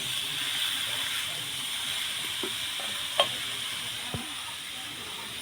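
Chopped ash gourd hisses in hot spiced oil in a pan for a shrimp dish, a steady close sizzle broken by a few sharp stirring clacks of a spoon.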